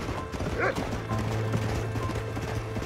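Horse hooves clip-clopping with a short whinny in the Red Dead video game, close and rhythmic, with a steady low hum of in-game ambience beneath.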